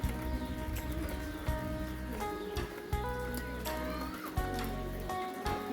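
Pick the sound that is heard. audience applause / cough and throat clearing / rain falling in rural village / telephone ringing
rain falling in rural village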